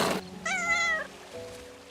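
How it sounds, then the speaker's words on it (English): A cat meows loudly in the video game Little Witch in the Woods, one drawn-out, clear meow followed by a softer trailing call. "Oh, the cat!"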